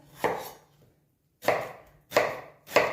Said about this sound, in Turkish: Biraz büyük doğrayabilirsiniz